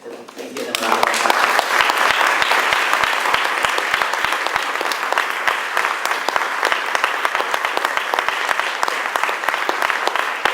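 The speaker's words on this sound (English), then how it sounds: "So please give them a round of applause." An audience at a literary reading by writers of color gives sustained, dense applause lasting about ten seconds, loud and steady from start to finish.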